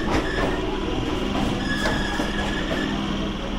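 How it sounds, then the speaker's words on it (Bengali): Passenger local train heading toward Canning pulls away from platform 18, a steady loud rumble of rail noise and wagon hum with faint squeals, running close and continuous throughout. "আমাদের ট্রেন ছেড়ে দিল 18 নম্বর প্ল্যাটফর্ম থেকে।"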